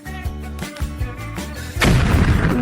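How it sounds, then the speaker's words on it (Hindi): A cartoonish cocoa explosion hits as a sudden loud broadband boom that sustains for nearly a second, following a stretch of tonal music with punchy percussive hits. "यह थी बड़ी सी कोको विस्फोट।"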